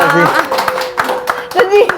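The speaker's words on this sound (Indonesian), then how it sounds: "Oke, tepuk tangan dong." A small audience claps on a studio talk show, scattered hand claps that sound close and come under loud, lively talking voices.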